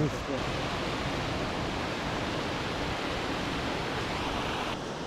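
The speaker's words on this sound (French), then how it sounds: "On a atteint la petite cascade et cette cascade est sacrée" A small sacred waterfall in the Zafimaniry country of Madagascar, pouring in a constant dense rush close by, loud and unbroken throughout.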